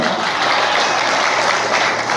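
A crowd at a rural tractor-sales celebration and honouring event bursts into loud, dense applause, a continuous wash of many hands clapping close by for the whole stretch, with no pauses.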